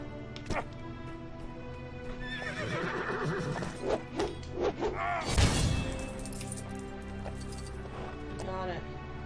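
In the LEGO Lord of the Rings video game, a horse whinnies and hooves clatter among assorted game effects and impacts, with a player talking over parts of it.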